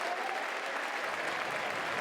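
A baseball crowd at an NCAA super regional game between North Carolina and USC gives a dense, sustained round of applause, loud and even from start to finish, with no talk.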